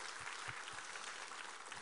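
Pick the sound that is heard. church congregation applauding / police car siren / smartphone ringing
church congregation applauding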